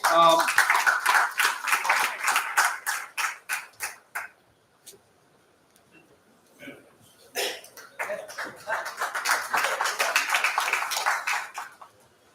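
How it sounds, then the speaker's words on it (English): Scattered audience clapping at a money and markets panel discussion, individual claps loud at first, fading into quiet with a few stray sounds, then building again to sustained applause. "Round of applause for Vivek."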